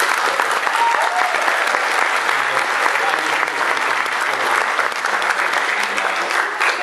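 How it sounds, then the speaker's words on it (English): A loud, dense round of audience applause rolls on without pause, steady and close, with no lull or fade across its length. "So, big round of applause for John."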